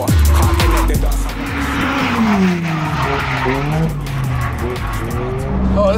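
Tires squeal as a drift car skids on a track, probably a Nissan SR-powered car, its engine roaring loudly and near, with wavering pitch through continuous slides.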